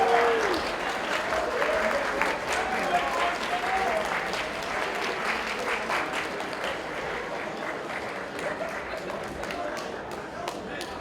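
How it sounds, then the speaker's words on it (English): Sustained applause and crowd cheering for the Mooresville High School Super Smash Brothers state champions at an esports awards ceremony, loud and steady throughout, with an announcer's voice briefly over the start. "Another round of applause for Mooresville High School."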